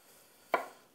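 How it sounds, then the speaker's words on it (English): A knife makes a single crisp chop through a halved sweet potato on a cutting board, cutting it into quarters. The cut lands close and clear against an otherwise quiet kitchen. "these are already halved, so I'll just go ahead and quarter them"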